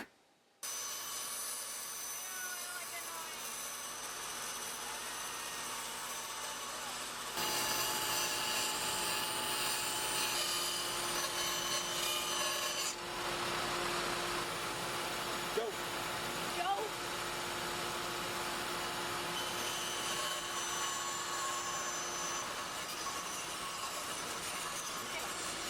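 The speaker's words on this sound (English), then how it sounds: "And now we need to cut out the circle." Plywood being cut around a glued-on paper template to free a circle for a wooden gear, a steady, loud machine whine running throughout with brief shifts in pitch and load partway through.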